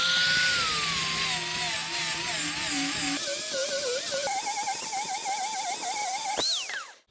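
A fishing-lure propeller is ground with a grinder, its motor whining loud and continuous, the pitch shifting as the tool works the metal, then spinning down at the end.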